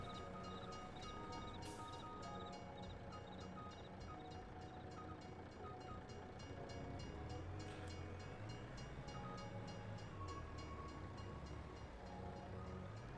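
Train rumbling along in the video game Travellers Rest, a steady, continuous low roll of wheels and carriage noise with a brief bright whistle-like burst near the start, fairly faint and without talk.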